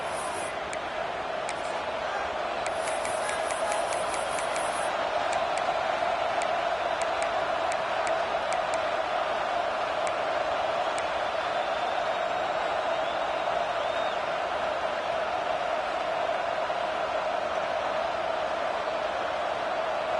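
A packed football stadium crowd on third down roars in a sustained, dense wall of noise that barely varies, loud and unbroken, with some faint whistle-like tones near the start.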